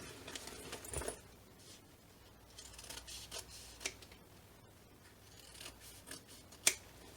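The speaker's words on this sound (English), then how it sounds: "So we're trimming all the seam allowances down now" Scissors snip through the seam allowances of a fabric bag in a quiet room, with a few soft, scattered cuts and rustles and one sharper snip near the end.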